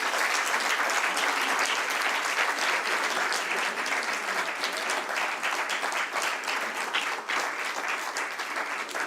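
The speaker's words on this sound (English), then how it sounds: "Can we have a huge round of applause?" Sustained, dense applause from an audience at a stock exchange listing ceremony, steady crowd clapping throughout with little variation.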